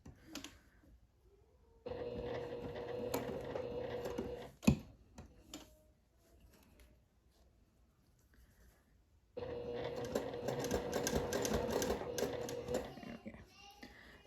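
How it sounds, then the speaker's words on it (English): A sewing machine topstitching along the edge of a seersucker dress pocket, in two bursts of steady, rapid needle chatter with a quiet gap between them. A faint voice is briefly audible. "And I'm going to top stitch along here."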